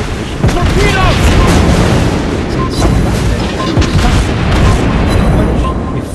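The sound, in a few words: torpedo explosions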